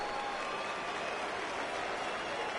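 A stadium crowd in MLB The Show 19 gives a steady, dense roar of cheering and applause that stays even from start to finish, with no clear voice above it.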